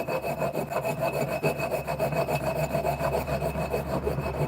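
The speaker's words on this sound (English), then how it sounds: "So keeping the file nice and flat, running with this face or this edge." A hand file drawn flat across a metal part of a custom e-bike hub, quick repeated rasping strokes at an even rhythm over a low steady hum, close and without speech.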